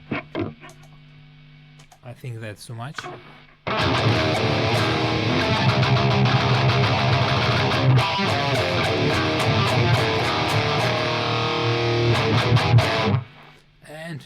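Clean electric guitar played through VHT Pittbull and ENGL Savage amps in stereo with no overdrive pedal, a sustained loud strummed passage after brief speech and a few picked notes, ending with a short spoken comment.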